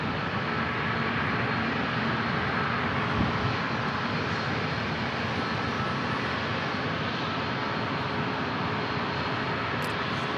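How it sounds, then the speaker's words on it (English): American Airlines Boeing 737 MAX 8 departing San Diego International for Phoenix, its jet engines producing a continuous, loud, dense roar with no talk over it. "as we head back to Phoenix on this MAX 8 here for American Airlines"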